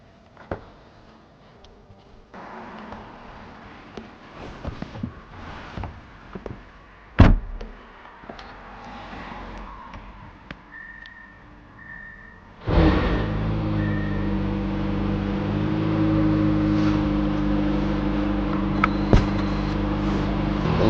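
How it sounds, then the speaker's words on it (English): A 2026 Lamborghini Temerario hybrid supercar starts off quietly with clicks and cabin sounds, then its engine comes in loud and steady from about halfway through and holds a strong drone to the end. "let's go ahead and go for a drive in the Temerario"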